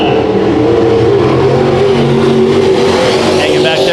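Race cars roar around Bakersfield Speedway during a heat race, a loud continuous engine howl with revving and passing cars, while a commentator talks over the racket.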